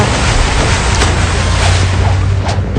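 A character swims through water in the Roblox game Blox Fruits, accompanied by a loud, continuous rushing wash of water and wind that holds steady for the whole stretch.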